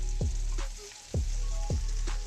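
Noodles sauté in oil in a pan with a soft, continuous sizzle, broken by a few low knocks as they are stirred and moved around.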